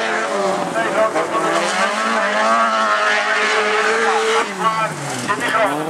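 Race cars in a Super Standaard heat at Avenhorn roar past in a steady, loud engine blare with rising and falling pitch, tires squealing and skidding briefly, under a race commentator talking throughout.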